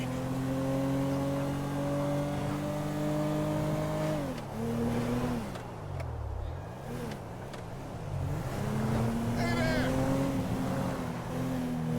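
Car engine roaring during a police chase in Grand Theft Auto V, a loud steady drone that dips and climbs again as the car shifts and accelerates.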